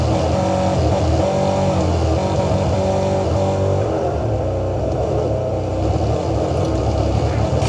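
A vehicle drives in the tactical shooter Ghost Recon Breakpoint, its engine a loud, steady, close drone that rises and revs slightly, running continuously with no talk over it.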